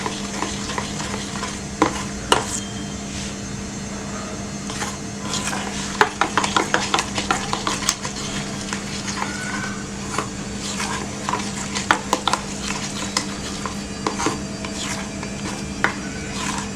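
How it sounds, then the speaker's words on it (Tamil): A spoon stirs honey into fruit yogurt in a bowl, giving repeated close scraping and clinking taps against the dish over a low steady hum, with no talking. "இதை நல்லா மிக்ஸ் பண்ணி விடுங்க."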